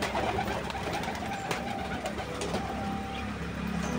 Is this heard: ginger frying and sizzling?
no